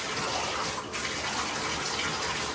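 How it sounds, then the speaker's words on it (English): Running tap water rinsing six-week-old American bully puppies in a bath, a steady loud splashing rush that continues without pause, no voices. "Make sure you rinse them real good."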